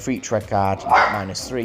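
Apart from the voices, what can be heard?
dog barking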